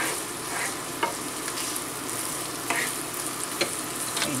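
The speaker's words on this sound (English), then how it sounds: "Just want to heat up those peas." Previously frozen peas heating in a pan, a soft steady sizzle with occasional stirring scrapes and clicks of a utensil against the pan, close and fairly quiet, with no talking.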